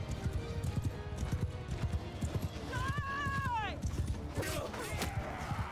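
A horse gallops in the medieval battle game Bannerlord, with rapid clip-clopping hooves throughout and a loud, wavering neigh in the middle, heard amid battle noise and someone talking.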